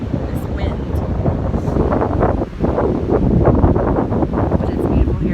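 Strong wind roars against the microphone at Bear Lake in Rocky Mountain National Park, a loud constant blustery rumble with a voice talking under it.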